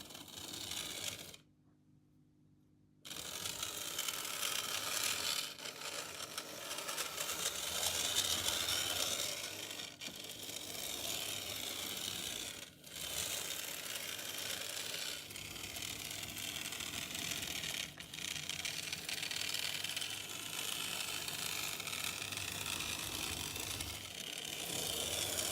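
A model VEB 2-6-2 tank locomotive of Saxon design, an older East German model powered from an H&M controller, runs on a test track with a loud, continuous buzzing mechanical whir that cuts out briefly near the start and then carries steadily without speech.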